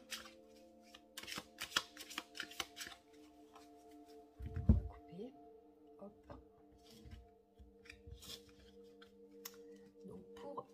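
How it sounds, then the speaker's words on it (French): A deck of cards being shuffled, with soft riffling flutters and scattered crisp taps close up, faint overall, plus a low hum in the background. "on va débuter par le mélange de cartes"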